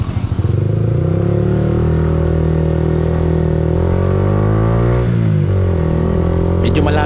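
A motorcycle with a 12-liter tank cruises on a road trip near Gabaldon, Nueva Ecija. Its engine drones loud and close, with wind roar throughout and a brief dip in revs near the end.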